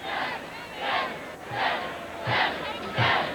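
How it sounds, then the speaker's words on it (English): A college football stadium crowd at Kenan Stadium, North Carolina, chanting the number seven during the final seconds of UNC's 1996 win over Georgia Tech, heard as four loud, rhythmic, distant-sounding crowd shouts in steady succession. "And the crowd starts to chant 7."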